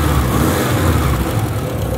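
A 1971 Saab 96 with its V4 engine ticks over at a steady idle, a close, even, low mechanical hum that holds constant throughout without revving.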